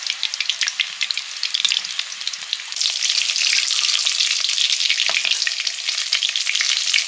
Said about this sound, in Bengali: চিকেন বলগুলো ভাজা হয়ে গেছে, পরপর উঠিয়ে নিচ্ছে